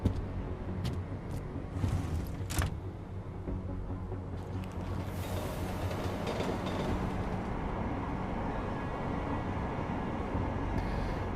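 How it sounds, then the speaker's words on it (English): A steady low rumble of a train ride inside the video game Deus Ex: Mankind Divided, quiet and continuous with a few brief higher clanks early on. "So we have to take the train back over to the other side of town."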